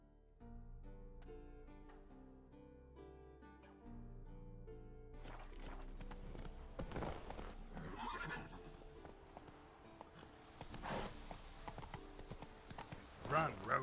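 Roach the horse galloping in The Witcher 3, rapid hoof clip-clops with neighing behind game music, rising louder later, while someone talks over it.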